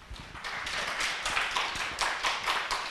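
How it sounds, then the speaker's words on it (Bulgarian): An audience claps for a lecturer after a talk on the bgERP business software, a steady, dense round of applause that lasts the whole stretch at moderate loudness with no voices over it. "Аплодисменти за Милен и за неговата лекция"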